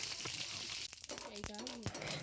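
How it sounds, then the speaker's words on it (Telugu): Tempering seeds sizzle in hot oil in a pan while cucumber chutney is being made. The soft, steady crackle continues as a person speaks briefly over it. "నూనె వేడెక్కిన తర్వాత పోపు గింజలు వేసుకుందాం."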